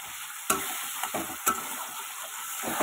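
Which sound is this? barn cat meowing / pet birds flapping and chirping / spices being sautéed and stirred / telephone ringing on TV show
spices being sautéed and stirred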